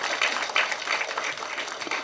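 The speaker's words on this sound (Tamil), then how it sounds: "ப்ளீஸ் ஒரு கைத்தட்டலுக்கு விடுங்களேன்." Audience applause at a film audio launch event, a crowd clapping steadily and fairly close for the whole stretch.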